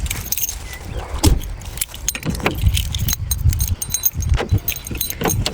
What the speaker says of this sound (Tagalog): Ito na yung susi eh.